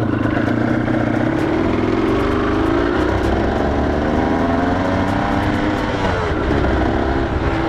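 A 250 cc two-stroke motorcycle engine running steadily while warming up after a kick start, a loud, close, continuous buzzing drone with small shifts in pitch and no pauses.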